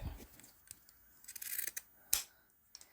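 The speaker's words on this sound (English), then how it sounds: "my zipper tab can be trimmed up with my pinking shears, and I just trim that up to the edge of the tape" Pinking shears trimming a fabric zipper tab to the edge of the tape, a few quiet, close crisp snips spaced apart, with one sharper cut near the end.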